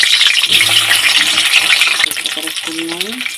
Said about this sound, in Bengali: এগুলো আমি ভেজে নেবো আলাদা আলাদা করে ভেজে নিয়ে এটা বেগুনটা দিলাম